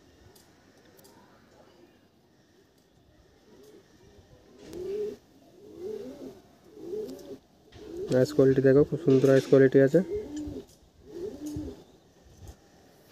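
Desi pigeons coo repeatedly in a loft, soft throaty calls building to a louder burst of close cooing, with someone talking over them.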